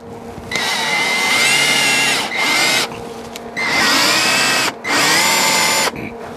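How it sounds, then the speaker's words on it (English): A power drill drives a screw into hard particle board in a shop, whirring loudly in three long bursts separated by short pauses, with the motor pitch dipping as it labors. "This particle board was harder than I thought it was. Maybe I should have pre-drilled."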